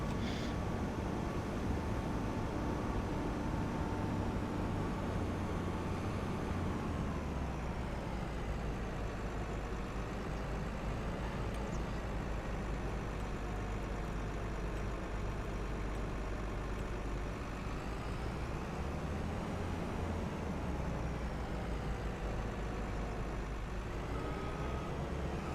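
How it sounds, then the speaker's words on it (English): A tractor engine left idling in Farming Simulator 25, a steady low rumble that drones on throughout with slight shifts in pitch, close and constant. "Oh, this tractor is running. Someone left the tractor running."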